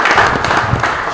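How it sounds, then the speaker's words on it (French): A game show audience in Lubumbashi claps to welcome a contestant in the final, a loud steady patter of many hands that runs unbroken and without talk. "Merci beaucoup d'applaudir et d'accueillir Martins."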